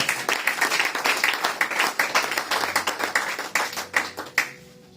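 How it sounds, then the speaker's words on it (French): A church congregation applauds for the Lord, a dense run of many hands clapping in quick uneven bursts that thins into a few last loud claps before stopping. "Est-ce que quelqu'un peut acclamer pour le Seigneur?"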